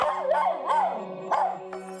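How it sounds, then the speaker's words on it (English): A stressed dog left alone behind a closed door whimpers and howls in wavering, siren-like rises, with a few bark onsets, fairly close and loud over a steady background hum. "he's gone from just a little bit of whimpering to barking to howling"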